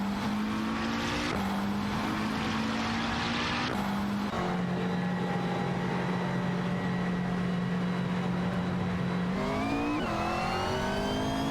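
Racing cars in an AI racing video game scream past with a loud steady engine whine, the pitch stepping through gear shifts and climbing again near the end.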